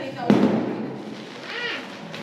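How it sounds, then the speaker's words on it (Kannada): A firecracker bursts outside with one sharp bang early on and a fainter pop near the end, while people talk nearby. "ಪಟಾಕಿ ಹೊಡಿತಾರೆ ನೋಡೋದು."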